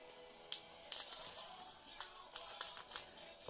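Scissors cut across the bottom of a Pokémon trading card game package, giving quiet, close snips and crinkling plastic clicks in an uneven run, with no voice over them.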